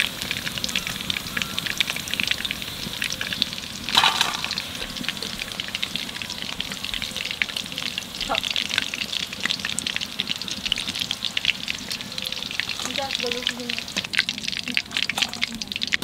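Hot oil hisses in a Chinese wok for chicken frying, a steady close crackling sizzle throughout with occasional sharper spatters and faint speech in the background.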